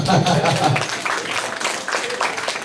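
Church congregation applauding and cheering the Lord, a dense wash of clapping mixed with voices, loud and sustained throughout, with a lower murmur of speech at the start.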